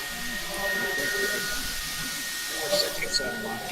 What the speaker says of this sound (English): That vacuum cleaner style sound you can hear is guys using power tools to blow air on their motors to cool them down.